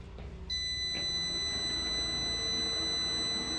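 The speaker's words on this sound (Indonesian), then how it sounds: "Oke, ada buzzer" A Prostar uninterruptible power supply sounds its buzzer on power-up: a steady, high electronic tone starts abruptly and holds unbroken, close and fairly loud, with no voices.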